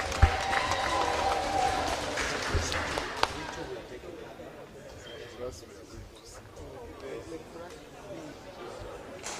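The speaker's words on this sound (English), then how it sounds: "when did we start clapping in Parliament?" Applause in the Parliament of Uganda right after members swear to uphold the Constitution, fairly loud and dense at first, then fading into softer murmuring chatter and shuffling in the chamber.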